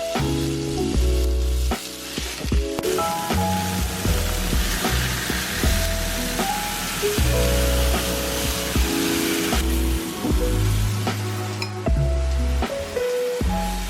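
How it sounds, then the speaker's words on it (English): Pieces of roast browning in a hot skillet, a loud continuous sizzle and spatter heard under steady background music. "I am going to brown this in this skillet here and then just stick it in the slow cooker."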